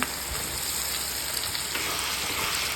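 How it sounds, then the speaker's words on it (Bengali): Onion, dried red chilli and nigella seeds sizzle in hot oil in a kadai as a Bengali tempering for fish kalia, a steady close frying hiss that holds throughout. "পেঁয়াজ শুকনো লঙ্কা কালো জিরে ফোড়ন দিলাম"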